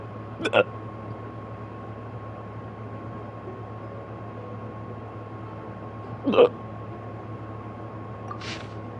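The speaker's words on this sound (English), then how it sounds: "And what a bad time too to get the hiccups." Two distinct hiccups come several seconds apart over a steady low hum, and a fainter third sound follows near the end.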